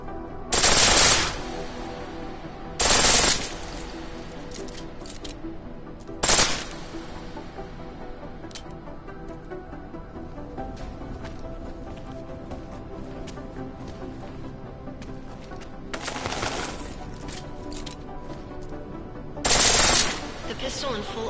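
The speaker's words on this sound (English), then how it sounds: "The pistol in full auto will take down targets fast, but it'll burn through your ammo." Full-auto pistol fire from Deus Ex: Mankind Divided, heard as four loud, separate bursts of rapid shots spread across the stretch, with quieter game ambience and faint talk in between.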